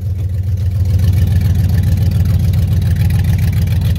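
A 2005 Dodge Ram 4x4 pickup with the 4.7 Magnum V8 and a Flowmaster exhaust idles steadily up close, a deep, loud, pulsing burble that holds even throughout.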